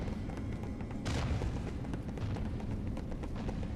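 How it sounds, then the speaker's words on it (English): A gun combo attack in the action game Stranger of Paradise, heard as a burst of low booming shots and impacts that comes in sharply about a second in, moderately loud over a rumbling game background. "I'm going to try out my gun combo"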